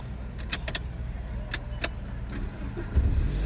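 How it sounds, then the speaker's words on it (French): A car's engine being restarted during a driving lesson, with a few sharp clicks and key jingles followed by the engine catching and settling into a low rumble at the end. "redémarre ta voiture alors"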